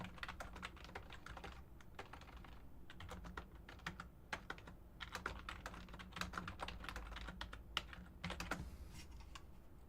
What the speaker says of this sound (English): I'll type that in right now